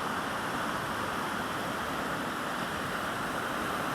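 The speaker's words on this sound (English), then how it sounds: "the sound of the water crashing over the rocks" River water crashes over rocks near Barden Bridge, a steady, dense rushing roar with no breaks, even in level and unbroken by voices.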